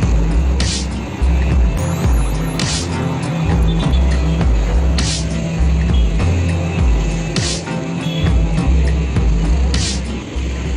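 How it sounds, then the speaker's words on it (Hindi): Steady road traffic rumbles past during a weekend motorbike ride on a busy flyover near the Bhiwandi bypass in Maharashtra, with dense wind and engine roar and periodic whooshes of vehicles overtaking at close range. "आज वीकेंड है इसलिए रोड पे ट्रैफिक थोड़ा मीडियम है"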